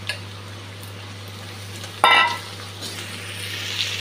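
Onion and green chilli hitting hot oil with frying potato, a sudden loud sizzle burst midway that eases into a steady crackle over a low constant hum.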